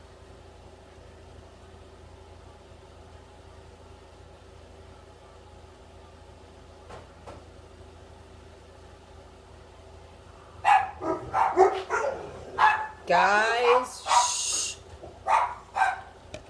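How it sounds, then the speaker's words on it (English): Several dogs bark in a loud, overlapping flurry after a stretch of quiet engine hum, with a brief hushing voice. "Sorry about the dogs."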